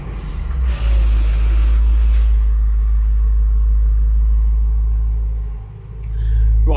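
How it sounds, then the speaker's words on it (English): Range Rover Sport V8 engine rumbling steadily outdoors while driving, a loud, continuous low drone with a slight dip and swell near the end. "any excuse to drive my V8"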